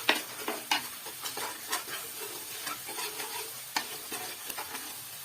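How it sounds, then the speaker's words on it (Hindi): Spice masala with cumin roasts in oil, crackling softly up close while a utensil scrapes and taps the pan in irregular stirring strokes. "यहाँ पे मसाला मेरा देख रहे हैं आप बहुत ज़बरदस्त अच्छे से भुन गया है"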